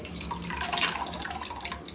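Food being washed and squeezed out by hand in a bowl of water, a steady close splashing and sloshing with dripping that runs through the whole stretch, with no talk.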